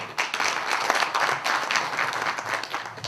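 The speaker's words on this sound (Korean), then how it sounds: "박수로 승인해 주시죠" Union delegates at a national labor federation's regular convention applaud to approve a resolution on regional headquarters operating rules, a dense, steady burst of clapping filling the hall for about three seconds.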